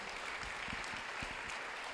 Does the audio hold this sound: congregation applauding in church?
yes